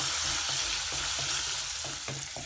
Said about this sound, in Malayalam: ഉള്ളി മൂത്തതിന് നമുക്ക് ഇഞ്ചി ഇട്ട് കൊടുക്കാം